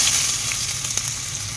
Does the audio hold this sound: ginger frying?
yes